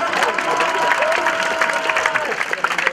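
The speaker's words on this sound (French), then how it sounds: "on l'applaudit très fort. Applaudissez." A cinema audience applauds steadily, a dense wash of clapping with a voice briefly rising over it.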